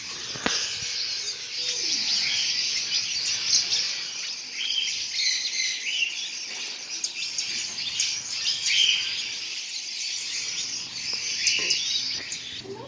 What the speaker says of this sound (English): Check out all the birds in here.